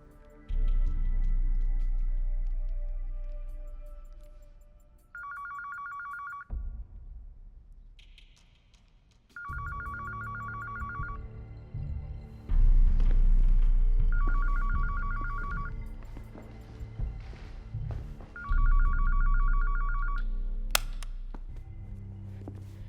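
A telephone rings in repeated electronic bursts, four or five evenly spaced rings with short gaps, set against a low rumbling background and occasional clicks and thumps; no one speaks.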